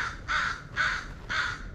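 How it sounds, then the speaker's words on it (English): A crow caws three times in an even rhythm from up in a tree at a park trail, harsh and fairly close, with no talking. "Oh, there's a crow."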